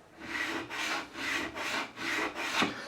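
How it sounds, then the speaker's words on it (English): A profiling file is drawn across the frets of a freshly built relic-style Telecaster during a fret level, making five steady rasping strokes in an even back-and-forth rhythm, close and clear with no voices. "once we've gone across with the Z file, we'll finish off with the profiling file"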